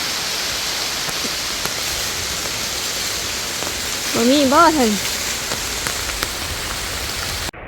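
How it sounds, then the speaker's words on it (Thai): Steady rain falling outdoors during a mushroom-foraging trip, a constant hiss of drops throughout, with a voice speaking briefly partway through. "ฝนตก"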